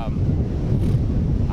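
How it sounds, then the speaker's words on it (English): Strong wind of about 30 mph buffets an unprotected microphone outdoors during a high-wind drone test, a loud, continuous low rumble with gusty fluctuations. "30 miles per hour wind"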